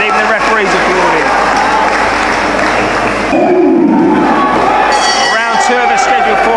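Crowd applause and cheering at a live boxing match after the opening round, loud and sustained, with a roar swelling midway and a commentator's voice over the noise.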